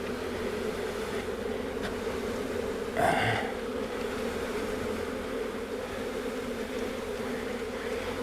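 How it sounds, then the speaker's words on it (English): Package honeybees are shaken into a hive and give off a steady, close, droning buzz, broken midway by a brief thump and rustle. "I'm going to shake the bees."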